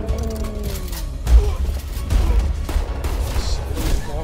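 Gunfire in the action film Baby Driver: loud crashing bursts and booms over a dense, rumbling action-scene mix, with brief voices around them.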